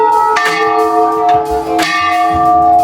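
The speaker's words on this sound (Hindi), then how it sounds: "अब आपको घंटों की आवाज़ देखिए आ रही है।" Large bells ring at a Hindu temple, Maa Chandika Devi Mandir in Baksar, with loud, close metallic strikes whose long, humming tones overlap and sustain between hits.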